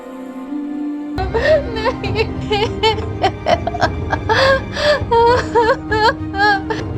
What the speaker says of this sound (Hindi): वह मीना की रोने की आवाज सुनकर उसके पास जाती है।